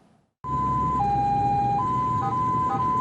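An ambulance siren in East Jakarta wails loud and close, its two-tone pitch alternating steadily after a sudden start, with the hum of traffic underneath.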